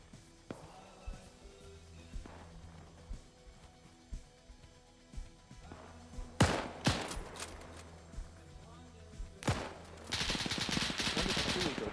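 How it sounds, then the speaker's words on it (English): Machine gun fire in a World War-era online shooter match between British and German sides, with scattered distant shots early on and then louder close bursts, ending in a sustained stretch of rapid fire. "Get him with the machine gun."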